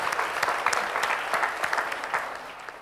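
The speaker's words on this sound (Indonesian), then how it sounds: "Kita beri tepuk tangan sekali lagi." A church leadership conference crowd claps together, a thick, steady stream of applause with sharp individual claps popping through, loud and close for the whole stretch.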